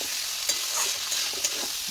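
Ground spices fry in a pan while being stirred, a close, even sizzle broken by a few quick scrapes and taps of the spoon against the metal.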